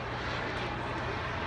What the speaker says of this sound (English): I'm going to do some passes now with the gear down.